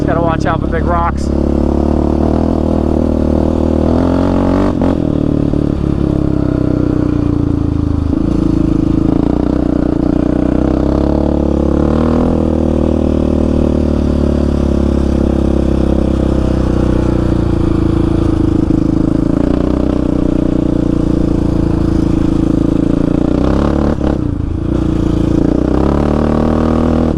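Yamaha Raptor 700 ATV engine rumbles loud and close while riding rocky desert washes and washed-out trails in Arizona, its tone rising and falling with throttle over nearly half a minute, with clattering and scraping from the terrain and a voice talking over it.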